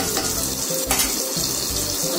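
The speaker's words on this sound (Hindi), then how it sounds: "ये देखिए सारे मसाले मेरे फ्राई हो चुके हैं।" Spices frying in a pan make a loud, close, continuous sizzle, with a few stirring scrapes of a utensil in it and no talk.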